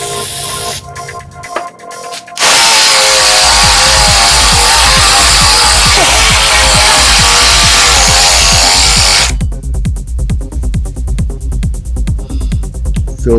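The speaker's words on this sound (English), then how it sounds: "Feels like it's not drilling through it." A power drill bores through very thick steel, a loud continuous grinding whine lasting several seconds with a pulsing rhythm, bracketed by quieter mechanical clicking before and after.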